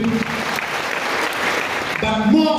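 Applause from an audience at a church gathering honouring a bishop, a steady dense clatter of clapping throughout, continuous and fairly loud.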